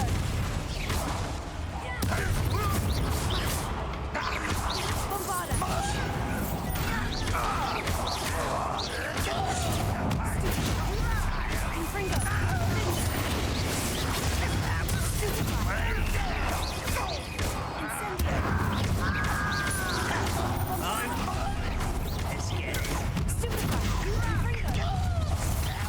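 Repeated fiery blasts of the Confringo spell in Hogwarts Legacy, dense explosive bursts and crashes layered with game sounds and a talking voice over about 26 seconds.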